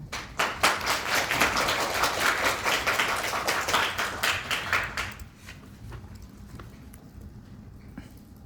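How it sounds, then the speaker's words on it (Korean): Audience clapping at a press briefing, a dense burst of many hands for about five seconds, then trailing off into quiet room tone. "박수로 맞아주시기 바랍니다"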